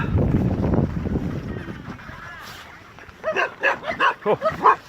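Several dogs bark in quick repeated bursts near a mountain bike enduro loop, loud close yaps following a stretch of rustling noise.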